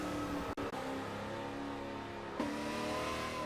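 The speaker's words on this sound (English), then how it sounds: "The second car to try and beat our benchmark vehicle was this, the 1970 Buick GS X." Engine of a 1970 Buick GS X muscle car revving in the Forza 7 racing game, a steady loud drone with brief cuts near the start, like gear shifts, and a surge of throttle later on.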